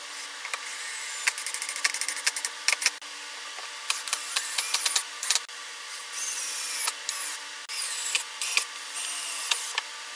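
A power drill whirs in short repeated bursts, driving screws into cherry wood with brief pauses between each run, close by.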